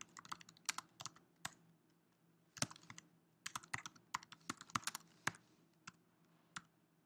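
A file name is typed on a computer keyboard, quiet crisp key clicks in short irregular bursts separated by pauses, close and alone with no talking.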